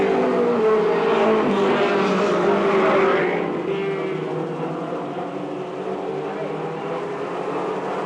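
Race cars roar steadily on a short oval during a multi-car race, engines loud and close, the pitch shifting as the pack passes and the roar easing slightly partway through.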